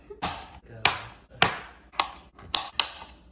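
Knife chopping mango into chunks on a cutting board: six sharp, separate chops at an uneven rhythm, close and fairly loud, with no voices.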